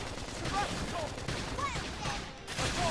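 Continuous bursts of gunfire and explosions from Xenoblade Chronicles X: Definitive Edition crackle throughout, dense and loud, with whooshing effects layered in.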